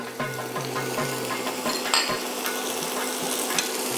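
Mashed ginger and chopped chilli sizzle in hot oil in a pan, a steady close frying hiss with occasional spatula scrapes and light metal clinks against the pan.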